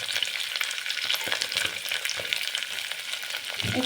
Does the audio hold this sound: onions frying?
yes